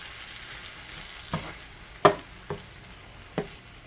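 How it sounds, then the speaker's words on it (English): Ground beef sizzles in a pan as seasoning is mixed in, a low steady frying hiss punctuated by four distinct scrapes of a utensil. "I'm going to go ahead and mix this in with the meat."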